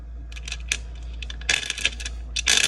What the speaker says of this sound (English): Sorry, that's the cards.